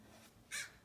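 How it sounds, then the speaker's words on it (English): A crow gives a single faint, short caw from some distance, set against quiet room background. "I had a little interruption with my Mr. Crow here."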